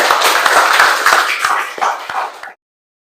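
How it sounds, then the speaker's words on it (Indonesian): Classroom applause for student groups: a lively burst of many hands clapping together for about two and a half seconds, then an abrupt cut to silence. "Tepuk tangan untuk semua kelompok."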